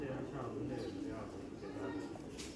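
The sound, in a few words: pigeons cooing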